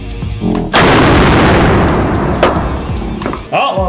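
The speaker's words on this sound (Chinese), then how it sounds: "好，我们接下来要实测换我们的散弹枪打到黑卡会怎么样？" A shotgun fires at a black credit card in one heavy, booming blast with a long rolling decay, close and loud, followed by a sharp thump and voices reacting.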